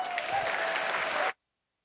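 Audience applause at a Toronto tech event, a fairly faint, even wash of clapping from a crowd that stops abruptly, leaving silence.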